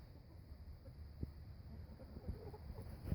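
Backyard chickens cluck faintly at a distance on a quiet morning, with a few short, soft calls breaking through low background hiss.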